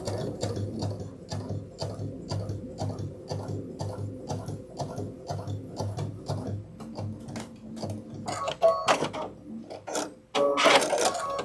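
A sewing machine runs long basting stitches on a backpack, making a rhythmic mechanical clatter in regular pulses with brief pauses and a faster burst near the end.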